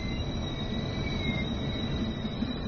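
Trains run in the railway simulator game Train Sim World 2020, a steady low rumble of rolling wagons with thin, sustained wheel squeals on top, moderately quiet and continuous.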